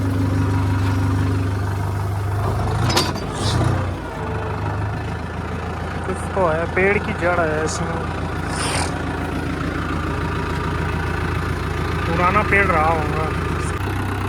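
A four-wheel tractor engine idles steadily at low speed in first gear with a plough set deep in a field, a continuous low rumble running through the whole clip beneath close conversation.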